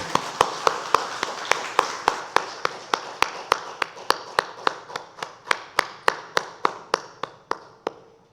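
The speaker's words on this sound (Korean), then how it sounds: "하나님께 영광의 박수 올려드립니다" A church congregation claps during a Sunday worship service: about two dozen sharp, evenly spaced claps in a steady rhythm, ringing in the hall and slowing slightly toward the end.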